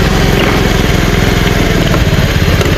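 Honda Beat FI scooter with a new TPS and EOT sensor, losing power and misfiring, running loud and close with a steady, constant engine drone and no clear rev swells.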